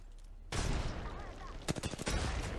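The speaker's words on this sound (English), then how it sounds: "Listen up, I'm getting shot at." Gunfire in Apex Legends erupts abruptly into loud, sustained fire, with a rapid cluster of sharp cracking shots partway through, close and dense over game noise, with some talk.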